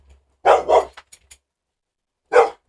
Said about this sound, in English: You heard Zeus bark in the background.